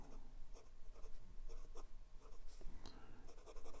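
Fountain pen nib scratching across Clairefontaine 90 GSM paper, a 2019 Leonardo Momento Zero Grande Corsani with a fine 14 nib, giving close, continuous faint scratchy strokes with short pauses between words.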